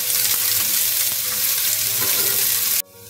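Chopped onions sauté in hot ghee with a dense, even sizzle and light stirring, close and loud, then cut off abruptly just before the end; no voices.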